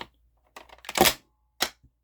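A small hard object clatters onto a surface with a few quick knocks and a sharp crack, followed by a second brief thud, close by.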